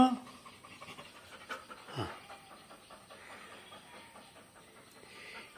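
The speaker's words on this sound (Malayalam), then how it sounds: "ബ്രൂണോ അങ്ങനെ ചെറിയ ഒരു മീ ഇതല്ല കേട്ടോ ചെറിയൊരു പട്ടിയല്ല നിസ്സാരക്കാരനല്ല അവൻ" A dog pants in quick, steady breaths close by, fairly soft, with background noise and faint voices.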